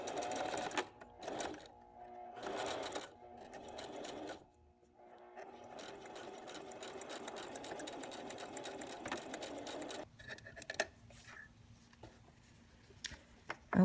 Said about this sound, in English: So this one we want to sew really close to the edge, and I'm just going to shift my needle over a bit and tack it down there.